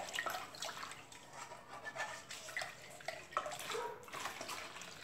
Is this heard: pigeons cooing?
no